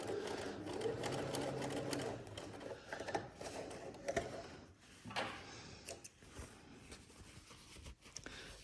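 A Bernina B335 sewing machine stitches a gathered seam with a waistband edge, its needle whirring in quick runs that stop and restart, with small fabric rustles and clicks between bursts, close and fairly quiet.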